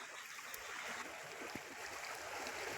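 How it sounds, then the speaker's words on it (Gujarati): Floodwater rushes through a stream after the first monsoon rain at Varal village in Sihor taluka, a faint, steady broadband roar that continues evenly without pause or talking. "પાણી વધતું જાય છે"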